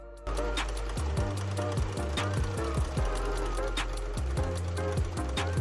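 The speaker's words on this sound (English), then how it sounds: "So I've got my machine set to a zigzag stitch here." A sewing machine runs a zigzag stitch through stretchy fabric, a close, steady mechanical whir that speeds and slows in short bursts with quiet clicks between runs.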